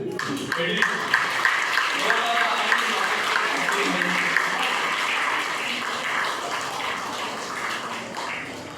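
Audience applause at the closing ceremony of an annual coaching session, a continuous wash of clapping from a gathered crowd, steady and fairly loud, easing slightly toward the end.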